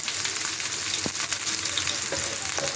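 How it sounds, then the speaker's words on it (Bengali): Chopped onions and green chillies fry steadily in hot oil in a pan, a continuous close hiss with a few soft stirring clicks and no voices. "দিয়ে একটু পেঁয়াজগুলো লাল লাল করে আমি ভেজে নিই"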